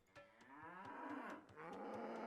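Repeated cattle moos from a video game, several overlapping lowing calls in quick succession over a steady background, fairly loud and continuous with no talking.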